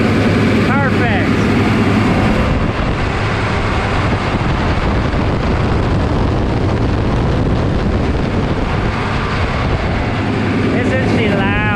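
A dry bean harvester's engine roars loudly and steadily throughout, a dense mechanical drone with voices faintly underneath.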